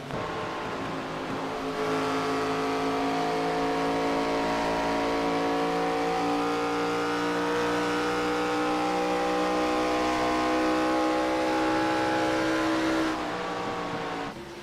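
Onboard engine of a stock race car in iRacing at Charlotte, a steady high droning roar held at near-constant revs for a long stretch, with a brief lift near the start and end, no talk.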